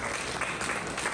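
Sustained applause from a crowd at a law school dining and mentorship event, a dense, steady clatter of many hands clapping that fills the room without pause.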